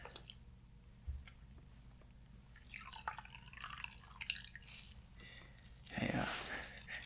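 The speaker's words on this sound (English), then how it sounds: "let's give this rag a quick rinse" A rag is rinsed in water during boot shining, giving soft drips and squishy wringing sounds, close and quiet, building to a louder splashing burst near the end.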